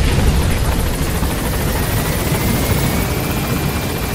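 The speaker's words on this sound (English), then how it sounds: "Support helicopter has arrived." In the Metal Gear Solid V video game, the support helicopter arrives with a loud, continuous rotor roar and rapid thudding blade chop that stays steady and close throughout.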